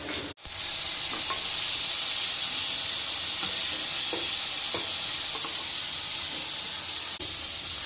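Mushrooms frying in hot oil for an Indian mushroom curry, giving a steady close sizzle and hiss with occasional stirring clicks, after a brief dropout near the start.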